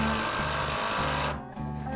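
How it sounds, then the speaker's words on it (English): A power tool runs with a loud, steady mechanical whir and rapid pulsing, dipping briefly and restarting for a moment near the end. "Power tools are always satisfying."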